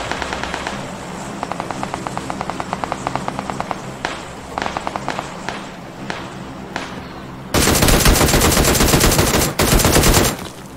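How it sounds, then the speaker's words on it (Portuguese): Automatic gunfire in the battle royale game PUBG: rapid rattling bursts up close, then a louder, denser barrage near the end, set against a faint steady engine-like drone. "Tá atirando em mim agora."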